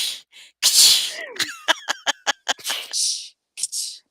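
A person voices a series of sharp, percussive mouth sounds imitating slaps, several quick bursts in a row, close and fairly loud, mixed with breathy noises.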